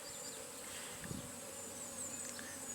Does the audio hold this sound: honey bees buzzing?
yes